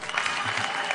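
A church congregation breaks into brief, dense applause that stays steady and fairly loud for about a second, with no speech on top.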